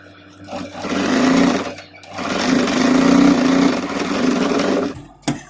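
A sewing machine runs a long basting stitch on a folded blouse strip, a loud close motor whir that dips briefly and then continues steadily, ending with a sharp click.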